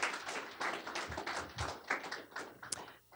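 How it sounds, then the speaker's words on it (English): A small audience gives a brief round of applause at a chemistry talk on taste, a few seconds of scattered, moderately loud claps with some uneven taps and thumps. "Let's give them a round of applause here"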